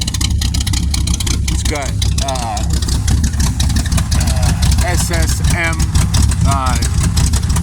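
A Chevy S-10 with a 406ci stroker engine and dual stainless steel exhaust idles with a loud, steady rumble throughout, close by, while someone talks over it.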